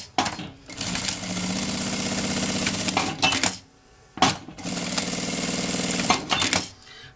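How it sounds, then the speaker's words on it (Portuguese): A sewing machine runs a straight seam on bag lining in two long bursts of rapid stitching, each a few seconds long, with a brief pause between them. It sounds close and steady, with clicks at the starts and stops. "Vou passar uma costura reta aqui."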